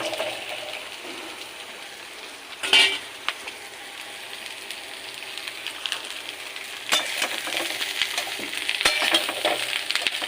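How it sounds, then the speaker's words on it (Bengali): Mixed vegetables go into a pan of fried onions and sizzle quietly, with a sudden burst of hiss as they hit the oil, then stirring scrapes and clinks over a steadily building fry. "সবজিটা দিয়ে বেশ ভালো করে আমি কষাবো"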